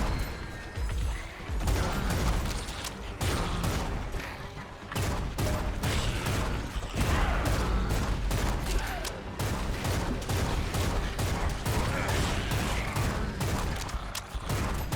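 Rapid gunfire from a weapon in the video game BloodShed, loud dense bursts of shots in quick succession with brief pauses, continuing throughout with heavy recoil-like thuds.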